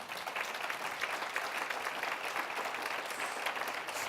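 Applause from a conference audience at a 2018 liberal arts higher education event, a soft but steady patter of many hands that carries evenly for about four seconds.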